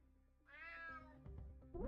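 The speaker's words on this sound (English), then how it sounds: "Damn cat." A cat in the video game Unmetal gives a single clear, drawn-out meow, close and alone, followed by a few short game sound effects.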